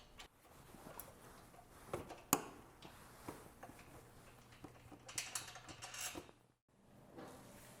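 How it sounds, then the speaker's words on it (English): A 12mm wrench works a bolt loose on a Yamaha Tenere 700 lower crash bar, giving faint, scattered metallic ticks and ratcheting clicks with one sharper clink partway through. "Start by removing the lower of the two 12mm bolts using a 12mm wrench"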